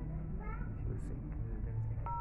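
A telephone is dialled to place a call, with short electronic keypad tones beeping over a low background murmur of voices.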